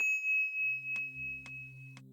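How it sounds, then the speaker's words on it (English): A bell in the video game Obsidian gives a few soft, evenly spaced chiming tones, faint and clean against a quiet background. "Ring bell, ring bell."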